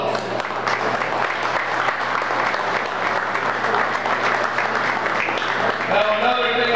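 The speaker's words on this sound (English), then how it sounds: "How about give him a round of applause?" Audience applause fills a pigeon auction hall for a club member standing at the back, a steady dense clapping that carries on for several seconds with a low hum beneath and a voice rising faintly near the end.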